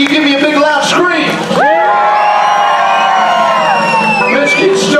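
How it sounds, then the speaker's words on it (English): A loud crowd roars with cheers and screams at a hillbilly band's live show at Knott's Berry Farm, swelling into a sustained wave of whoops and shouting that fills the whole stretch. "Give me a big loud scream."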